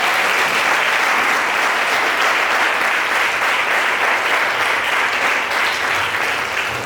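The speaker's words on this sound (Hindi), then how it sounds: "तो फिर से ताली बजा सकते हैं?" A church congregation claps together, a dense, loud, sustained applause that fills the room evenly from start to finish.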